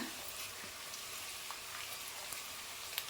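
Grated coconut frying in a pan for coconut rice, a soft steady sizzle with faint crackles and occasional light pops, quiet and close, with no talking.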